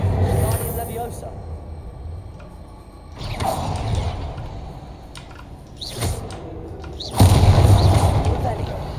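Spell explosions from the Confringo fire spell in the video game Hogwarts Legacy: several booming blasts a few seconds apart, each with a rumbling tail, mixed with game sound effects and a voice talking between bursts.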